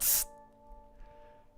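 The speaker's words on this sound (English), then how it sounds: "Somebody get the spray bottle quick." A spray bottle gives one sharp, loud spritz that hisses and cuts off quickly, leaving a faint, quiet tail with a thin lingering tone.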